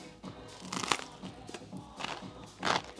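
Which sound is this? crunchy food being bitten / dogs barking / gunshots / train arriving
crunchy food being bitten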